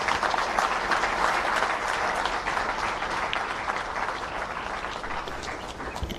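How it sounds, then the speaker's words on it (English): Applause from the audience after a memorial lecture honoring Prof. Emmanuel Tumusiime Mutebile, a loud, dense burst of many people clapping that holds steady and eases off slightly, with no talk. "Another round of applause"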